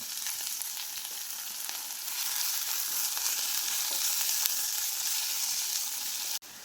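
Onion, tomato and green chillies fry in a pan, a steady close hiss of sizzling oil with occasional stirring scrapes that grows slightly louder before cutting off at the end.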